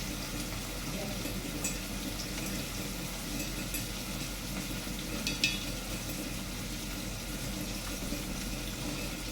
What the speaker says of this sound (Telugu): అవి అనేది మగ్గుతున్నాయండి, ఆనియన్స్ ముక్కలు అనేది.